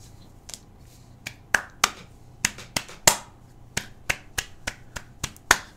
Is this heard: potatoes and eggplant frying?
no